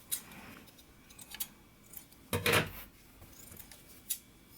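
Scissors snipping loose threads on a freshly sewn tote bag, a few quiet close snips and small handling clicks, with one louder burst of cutting near the middle.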